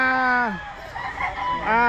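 A rooster crows at close range on a farm with chickens and stags, one long harmonic call trailing off and another starting, with clucking and a voice mixed in between.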